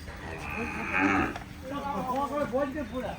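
A Kankrej cow on a farm moos in a long, near, wavering call, mixed with people talking over it.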